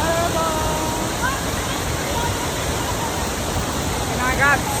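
A waterfall in Oaxaca roars as a steady, loud, dense rush of falling water that runs without a break and covers everything else, with a few faint chirps above it.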